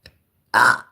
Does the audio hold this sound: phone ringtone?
no